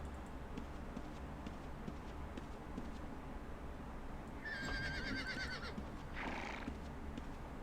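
A horse in the Ultima Online video game gives a short, faint neigh and a brief snort over quiet background noise, with no talking.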